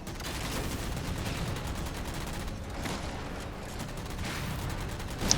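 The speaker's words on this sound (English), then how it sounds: "I'm getting pretty long bursts on my main gun" Long bursts from a vehicle's main gun in the video game Halo Spartan Ops, a fairly quiet, rapid rattle of sustained fire with dull booms that keeps going with little pause.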